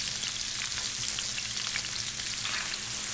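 Onion and garlic frying in bacon grease, a soft steady crackling sizzle that runs evenly throughout, close and fairly quiet.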